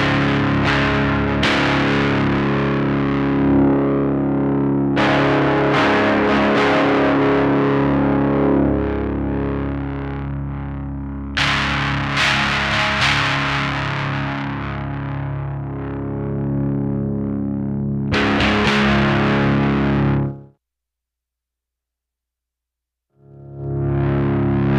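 Electric guitar played through an Orange Terror Stamp pedal-sized amplifier gives loud, distorted chords and riffs with sustained notes, pausing to silence briefly near the end before coming back in.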